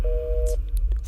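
A short electronic phone busy tone beeps once after a hang-up, followed by faint clicks and a low hum on the line.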